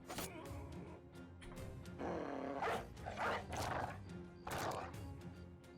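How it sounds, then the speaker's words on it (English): War dogs are let loose in the video game Battle Brothers, barking and snarling in several loud bursts over a steady low game background, with no talk. "then release the dogs"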